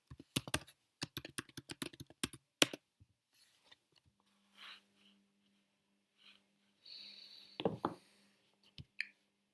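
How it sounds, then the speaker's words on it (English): A password is typed on a computer keyboard as a quick, close run of crisp key taps, followed by quieter scattered clicks and a soft steady hum. "So I'm going to type my password."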